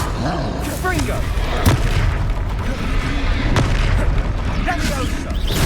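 Confringo blasting spells go off in Hogwarts Legacy, sharp booming explosions with pops and bursts landing under a speaking voice and busy game noise.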